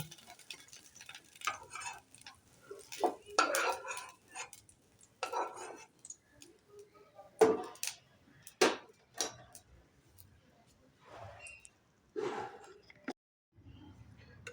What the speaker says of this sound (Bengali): কড়াটা পাল্টে নিলাম।